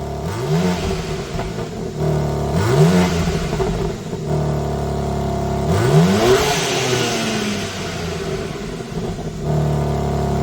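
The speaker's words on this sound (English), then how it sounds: "Let's hear what it sounds like with a few revs." A 2025 BMW M4 on its stock exhaust revs loudly in three separate blips, each pitch sweeping up and falling back, over a steady idle with no talking.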